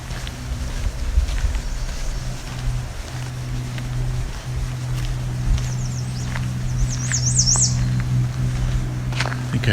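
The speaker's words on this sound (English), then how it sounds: "You can hear some black-throated green warblers in the background." A high, buzzy black-throated green warbler song rises briefly near the end over a steady low engine drone, sounding somewhat distant.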